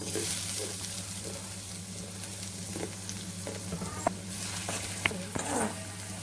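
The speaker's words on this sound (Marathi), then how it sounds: "तेल तापलं की आपण टाकूया कांदा" Sliced onion dropped into two spoons of hot oil in a kadhai, a soft continuous sizzle with faint hum underneath and a few sharp pops and spatters standing out near the end, with no talking.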